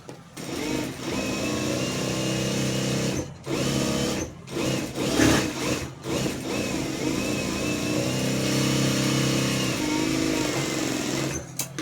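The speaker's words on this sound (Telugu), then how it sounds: "ఇప్పుడు దీన్ని కూడా అదే విధంగా మనము స్టిచ్చింగ్ అనేది చేసేసుకోవాలి" A sewing machine stitching fabric for decorative hand sleeves, its motor whirring in continuous bursts with brief stops between runs, loud and close, while a person talks over it.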